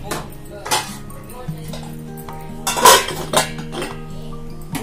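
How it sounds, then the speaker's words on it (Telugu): A metal lid set down onto a cooking pot of masala chicken gravy, a bright clink near three seconds among a few other close clattering kitchen knocks. "మూత పెట్టుకుందాం."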